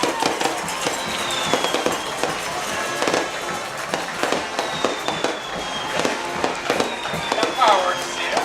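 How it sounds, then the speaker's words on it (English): Fireworks bursting at a night football game at a high school field, a steady barrage of crackling pops and bangs ringing out over crowd noise, with people talking throughout. "I didn't know he's getting fireworks tonight."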